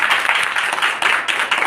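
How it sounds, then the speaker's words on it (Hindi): Loud, close clapping from an audience at a networking business gathering, dense and steady with slight surges, in a short burst without voices. "एक बार जोरदार तालियां बजाएंगे।"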